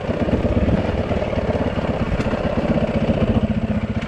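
A Yamaha WR450 motorcycle engine burbles close and loud in a steady, pulsing rhythm on a downhill ride.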